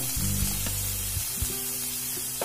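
Chilli powder hitting fried garlic and onion in hot oil, sizzling with a steady soft hiss and faint clinks of a spoon, quiet and brief.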